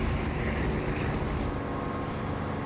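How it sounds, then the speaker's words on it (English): A propeller aircraft engine drones steadily in a flight simulator game, a constant loud hum with a low rumble and airy wash, with no voices present. "the engine sound changes obviously when I close canopy"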